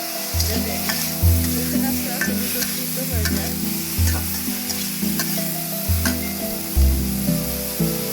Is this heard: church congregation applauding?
no